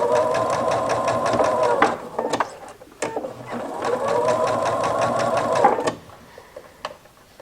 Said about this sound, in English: And stitch a 1/4 inch seam all the way down to the other end.